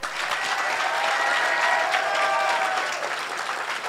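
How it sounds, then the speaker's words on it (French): A loud, sustained round of applause from an audience at a live awards ceremony, many hands clapping densely and evenly for the whole stretch, with faint crowd murmur beneath. "un tonnerre d'applaudissements pour l'équipe making-of"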